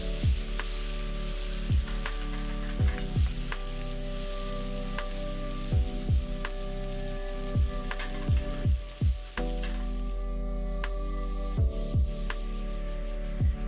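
Twice-cooked pork with green garlic stir-fries in a hot wok, giving a constant sizzle broken by repeated metallic clanks and scrapes of the spatula as it is tossed, with no talking.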